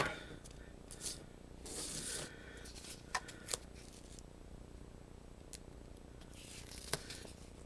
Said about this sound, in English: I'm going to trim that.